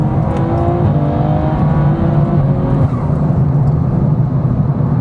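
A 2026 BMW M4/M3 accelerates hard, its engine note rising through the revs in a loud, close, continuous pull with no talking.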